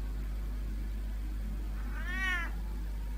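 A single short meow from Catwoman's cat in the Batman Telltale video game, faint and somewhat distant over a steady low hum.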